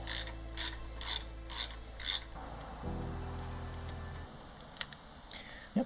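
A hand ratchet works loose a bolt on an Indian Challenger Dark Horse motorcycle, giving five distinct close clicking strokes in a steady rhythm, followed by a lower mechanical whir and a few faint clicks.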